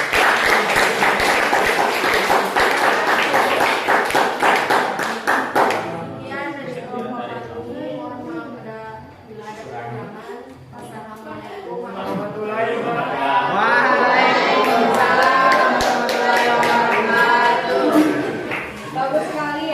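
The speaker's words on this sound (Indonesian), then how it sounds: "Kita tepuk tangan." A classroom of students breaks into dense, lively hand clapping for a few seconds, then a teacher's voice speaks over the room before another burst of applause swells near the end.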